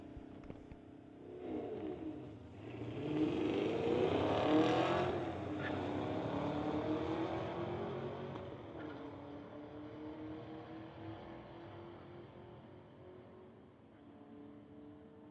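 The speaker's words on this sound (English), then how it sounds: "We've got an Acura versus a Camaro coming up next at the Titanium Strip at Mission Raceways" An Acura and a Camaro launch in a Friday-night street-legal drag race at the Titanium Strip, Mission Raceway, their engines swelling to a loud roar before fading off into the distance, heard from the trackside.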